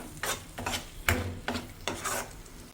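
Tomato puree cooking with masala in a pan for an egg omelette curry, stirred with repeated rasping scrapes in a slow rhythm of about five strokes over a low sizzle, close and moderately quiet.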